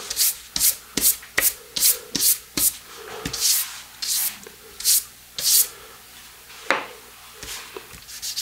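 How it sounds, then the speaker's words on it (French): A small brush or paintbrush sweeps rubbed-off masking fluid and eraser residue from watercolor paper in quick, dry, scratchy strokes, a fast regular run followed by a few slower, more spaced brushes, close and alone. "il faut enlever tous les résidus. Donc prenez une petite brosse ou un pinceau."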